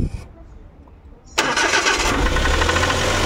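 A Suzuki Every Wagon K6A engine, fitted with a new knock sensor, cranks and catches on one try after a quiet pause, then settles into a steady, close idle that fills the rest of the moment.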